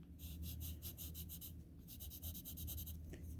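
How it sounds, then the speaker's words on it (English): A B pencil scratches across smooth hot pressed paper in quick, rhythmic back-and-forth strokes, soft and close, with a brief pause midway over a low steady room hum. "actually draw something on the hot pressed. This is with a B pencil."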